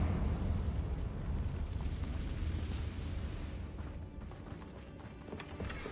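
A Confringo explosive spell goes off in a Harry Potter video game, a dense, roaring blast that fills the whole stretch and then slowly thins out toward the end, with no speech over it.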